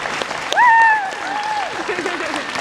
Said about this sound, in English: give applause to Jed Brophy.